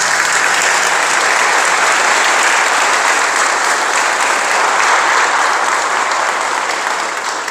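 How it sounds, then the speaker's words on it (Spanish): A church congregation gives sustained, loud applause during a worship service, a dense continuous wash of clapping from many people that holds steady throughout and eases slightly at the very end. "Denle un fuerte aplauso a Jesucristo, Señor."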